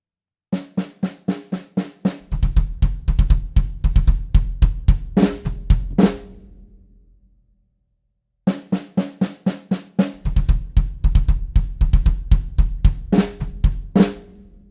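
Sharp snare hits with flams in a quick repeating pattern with low kick drum joining, played twice with a pause between phrases.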